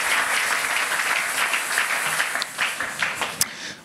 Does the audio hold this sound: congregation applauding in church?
yes